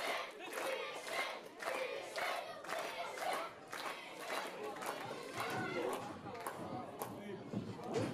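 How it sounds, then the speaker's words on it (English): A wrestling crowd in Liverpool cheers wildly during a live show, with loud surging roars and rhythmic chant-like bursts that rise and fall continuously throughout. "The crowd here in Liverpool are going wild."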